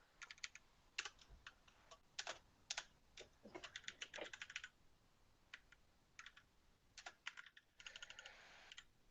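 Several people type their names on computer keyboards, making bursts of quick, quiet key clicks in irregular clusters with short pauses, faint and close with no talking.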